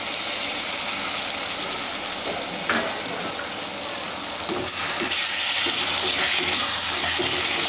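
Tamarind water pours steadily into a hot pan of dried anchovy gravy, a broad hissing rush that swells partway through and continues to the end, with faint clatter underneath.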